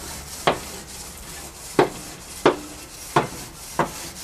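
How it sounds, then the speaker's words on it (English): Barbecue grill grates get scrubbed with five separate sharp scraping strokes at roughly even intervals, close and crisp over a low steady background, with no talking. "but we'll give them another scrub."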